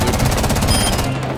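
Automatic gunfire in Rainbow Six Siege, a rapid burst of evenly spaced shots rattling loudly for about a second before tapering off.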